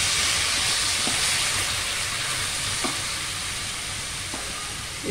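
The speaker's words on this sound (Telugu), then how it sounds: "తర్వాత ఆగాకరకాయ ముక్కలు ఉడకబెట్టుకున్న ముక్కలన్నీ వేస్తాను." Boiled spiny gourd pieces hitting a hot oiled pan for a curry, giving a steady broadband sizzle with a few faint clicks from stirring, close and constant, no voices.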